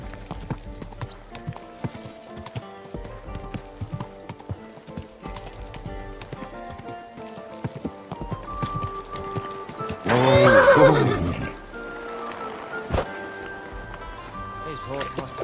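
A horse clip-clops slowly over ground in the medieval game Kingdom Come: Deliverance II, then lets out a loud, close whinny midway, with spoken dialogue nearby throughout.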